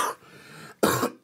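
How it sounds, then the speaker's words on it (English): Deep, rough coughs from someone sick with flu: a first hacking burst trailing into a raspy breath, then a second harsh cough a moment later, close to the microphone. "with the cough that I have"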